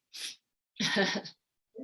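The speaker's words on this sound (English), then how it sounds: "Excuse me, I have a little sneeze." A quick sneeze, a short sharp intake followed by a burst, close and fairly quiet, then a brief voice starts.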